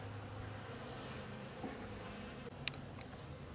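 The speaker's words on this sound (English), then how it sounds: "while the bees are getting in the syrup." Honey bees buzz around an open beehive during a September inspection as they take in syrup, a steady, soft hum close by with a few small clicks and no voices.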